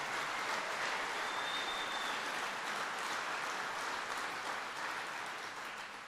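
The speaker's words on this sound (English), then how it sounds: "And even Terry's clapping about that one" Sustained applause from a White House audience after a promise made in a speech, a dense, steady wash of many hands clapping throughout at an even, fairly loud level with no talking over it.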